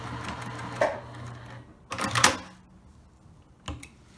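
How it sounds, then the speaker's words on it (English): A sewing machine back stitching scrunchie fabric, heard as short bursts of mechanical whirring separated by pauses, with a brief final burst near the end. "I'm going to back stitch."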